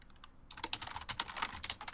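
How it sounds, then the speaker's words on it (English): Furious typing on a computer keyboard, a dense rapid clatter of keystrokes in quick irregular bursts, close and fairly clear with no talk over it. "Furious typing."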